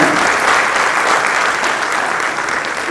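Audience applause at a stage play performance for a foundation day event: dense, sustained clapping from a full crowd, loud and steady throughout, with no voices standing out.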